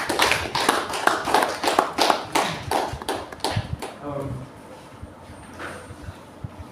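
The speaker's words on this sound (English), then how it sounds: "So can we give him another applause?" Audience applause at an inauguration convocation ceremony, many hands clapping in a dense burst that fades over several seconds, with faint voices underneath.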